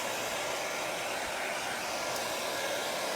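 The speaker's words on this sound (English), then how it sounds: "I'm gonna get my hair dryer because you need to make sure your bottom layer is dry before you do your next step" A hair dryer blows steadily at close range to dry a chalk paste layer on a Christmas cookie plate, giving a constant loud airy whoosh with no talking over it.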